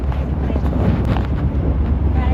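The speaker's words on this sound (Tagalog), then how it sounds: "Lakas ng hangin." Strong wind buffets the microphone in a constant low rumble, loud and close throughout, with no clear voices.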